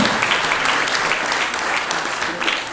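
Audience applause at an award ceremony during a national users' conference for medical software, sustained dense clapping from a crowd, steady and fairly loud throughout with no talk over it.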